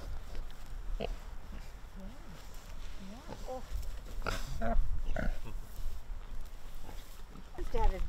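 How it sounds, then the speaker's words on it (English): Pigs at Sunset Farms Sanctuary in Cove, Arkansas grunt and oink in short, repeated bursts, close by and fairly loud, mixed with rustling and shuffling throughout. "Pigs are all about drama. They're always talking in here"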